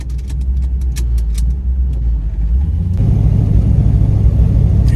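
A car with carburetor trouble idles roughly, its engine a low, uneven rumble that steps up louder and harsher partway through, with a few faint metallic jingles early on.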